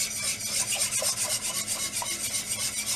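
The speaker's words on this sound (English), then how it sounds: "And then you whisk this up until the sauce" A whisk rubs steadily against a pan through a cauliflower cheese sauce of butter and corn flour, giving a close, rhythmic scraping that repeats several times a second, with no voices.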